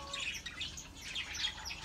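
Pet cockatiels and rosellas chirp in an aviary, with several overlapping high tweets and squawks in a busy, moderately distant chorus and no talking.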